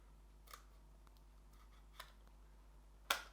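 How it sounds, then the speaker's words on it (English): A few quiet snips of scissors on plastic packaging, spaced apart in a hushed room, ending with one louder, crisper cut. "Okay, I need scissors."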